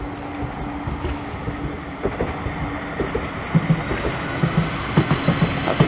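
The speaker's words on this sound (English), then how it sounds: "Tram coming there, I can hear." A pink tram rumbles past with rhythmic wheel clacks over rail joints, growing louder and steady, with a faint high squeal above the rolling noise.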